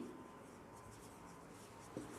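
A pen writes a chemical reagent name during a chemistry lesson with faint, steady scratching strokes over low room noise, ending in a slightly sharper tap.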